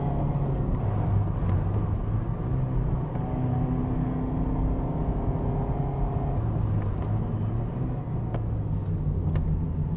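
Steady engine drone and road rumble from a nearly new motorcycle ridden with KPC electronic control switched on, a continuous even hum without clear revving, heard alone without talk.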